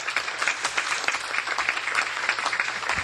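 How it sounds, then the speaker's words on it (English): Applause from the audience at a symposium on Ebola, honoring the director general of Brussels Airlines: a broad, steady wash of many hands clapping together, moderately loud and continuous with no voices over it. "il faut applaudir"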